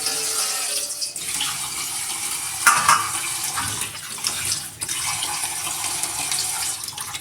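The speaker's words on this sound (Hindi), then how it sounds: "इनको मैं साफ पानी में भिगोने लगी हूँ" Water runs steadily from a tap into a bowl of potatoes being soaked for an aloo karela recipe, a continuous splashing rush with a few brief clatters, no talk.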